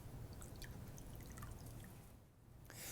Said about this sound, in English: This sponge is dry. I'm going to wet this sponge.